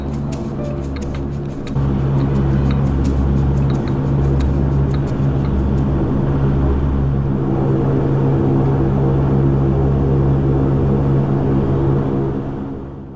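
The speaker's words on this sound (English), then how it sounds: "Now please enjoy this unedited takeoff." A Link Airways airliner takes off from runway 16 with a loud, steady engine roar and deep droning tones that swell at about two seconds and hold strongly to the end.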